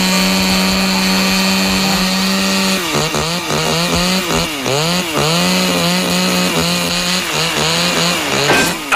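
A chainsaw cutting into a tree runs loud and close, its steady drone breaking into repeated rising and falling revving as the blade bites, with no voices.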